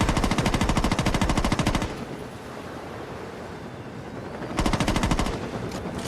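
Rifle gunfire in the video game Saints Row 2: two long, rapid automatic bursts, the first about two seconds and the second shorter after a pause, loud and close over a windy, rushing background.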